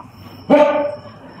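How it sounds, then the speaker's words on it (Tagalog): A single sharp dog bark rings out nearby, loud and brief, then fades against quiet background noise. "Yung mga aso ba may nakita"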